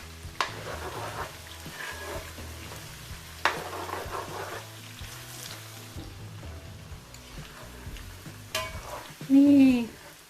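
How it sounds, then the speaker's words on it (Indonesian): Beef for empal sizzles steadily as it fries in a pan, with intermittent spoon-stirring scrapes and clacks over the hiss and one louder burst of sizzling near the end. "Nih daging yang gorengan yang kedua akan aku aduk sebentar"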